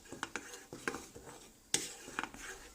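A spoon scrapes and clinks around a pot of boiled turmeric milk simmering on a gas stove, with irregular close metallic taps over a faint bubbling hiss.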